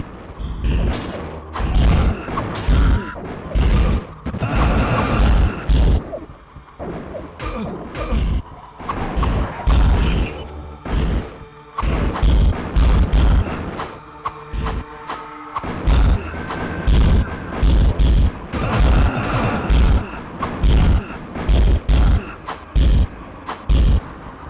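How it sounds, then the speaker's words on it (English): Explosions from the PlayStation game Diablo land as repeated heavy booms and crashing thuds in dense, irregular bursts, loud and close throughout the clip, with short gaps between volleys. "that explosion sound is shit"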